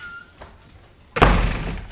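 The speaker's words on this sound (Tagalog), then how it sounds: "pinagsakan pa tayong pinto" A door slams shut with one loud, sharp thud that rings on briefly, following a quiet stretch with only faint background sound.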